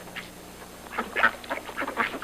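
Ducks on a pond in the Arctic give a run of nasal quacks and honk-like calls, scattered and mid-distance, growing louder and busier toward the end with no talk over them.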